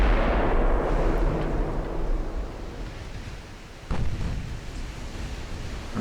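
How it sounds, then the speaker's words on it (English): Battleship 8-inch naval guns fire in an Ultimate Admiral: Dreadnoughts sea battle, a heavy rumbling roar that fades, then a second sharp blast near the four-second mark, all over a constant wash of sea and engine noise. "Our 8-inch guns will be firing at him too."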